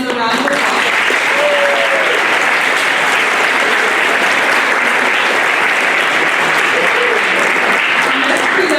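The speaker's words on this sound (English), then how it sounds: "Let's give all of these students another round of applause." Sustained, loud applause from an audience at a middle school 7th grade academic awards ceremony honoring students, with dense, even clapping filling the space for nearly nine seconds and a few voices faintly audible beneath it.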